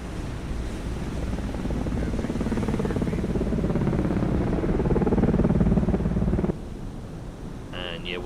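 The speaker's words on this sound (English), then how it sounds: "And yeah, we're getting helicopters sent up now." Helicopters in the submarine video game Cold Waters, heard as a steady low rotor drone mixed with sea and wind noise that holds loud for about six seconds, then drops back to a quieter rumble.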